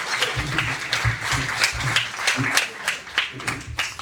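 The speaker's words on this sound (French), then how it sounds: "Donc vous pouvez l'applaudir." Members of an audience at a reading event in Bormes-les-Mimosas clap in a loose, uneven patter of distinct hand claps, moderately loud, with some voices mixed in.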